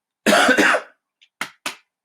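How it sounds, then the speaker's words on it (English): A person coughs sharply at close range, a heavy double cough followed by a few short, softer coughs. "sorry, I'm aware it's not a very good time to be coughing"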